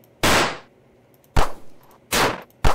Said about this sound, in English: the first sound effect you need is the shoot sound. Pistol shoot video game.